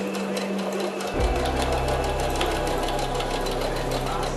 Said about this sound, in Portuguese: A gente vai fazer a costura bem em cima do risco, começando e terminando com o retrocesso